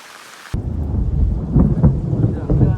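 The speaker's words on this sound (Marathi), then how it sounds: "भारी पाऊस लागलो." After a brief cut, a heavy downpour with rolling thunder breaks out by a bridge where people fish with rods, a loud, close, low rumble under steady rain.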